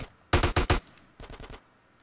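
Two quick bursts of AK rifle fire in GTA San Andreas, four sharp close shots followed after a short gap by four softer ones, with near silence around them.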